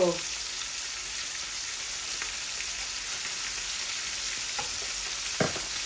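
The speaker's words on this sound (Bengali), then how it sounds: "ভালো করে আমি কড়া করে ভাজছি" Steady hissing sizzle of rohu and tilapia fish, coated in turmeric and salt, frying in hot oil, with a few faint clinks of a utensil near the end.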